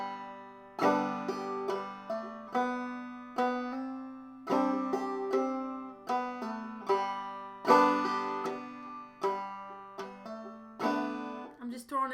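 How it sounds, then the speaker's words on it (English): Fingerpicked guitar in open tuning using alternate-string hammer-ons. Plucked notes and chords repeat in a steady pattern and sound close and moderately loud, each one ringing and fading before the next. No voices. "I'm just throwing in some other hammer-ons"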